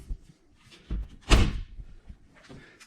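A caravan door in an offroad family caravan thuds shut with one firm slam, preceded by a couple of faint knocks and followed by quiet handling clicks.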